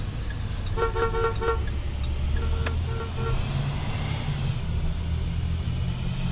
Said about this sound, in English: Did you not hear my horn from where I was at?